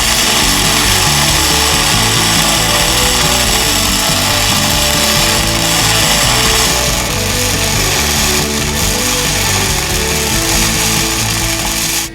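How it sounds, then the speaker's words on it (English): Plug welds are laid on Jeep Cherokee XJ unibody frame stiffeners in the rear section, giving a loud, continuous harsh crackling buzz that runs steadily for about twelve seconds with no talking. "So just do a little welding here and then kind of jump onto the other side."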